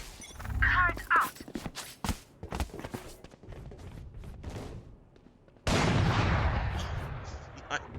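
Sniper rifle shots in the tactical shooter Valorant ring out as sharp, loud cracks among other gunfire and thuds during an esports match, followed by a sustained noisy burst, with a voice speaking.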